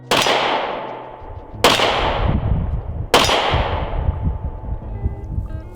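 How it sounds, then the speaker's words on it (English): Three loud gunshots from a PSA Rock 5.7 pistol, evenly spaced about one and a half seconds apart, each a sharp close crack followed by a long ringing decay. "So let's shoot it, test it out"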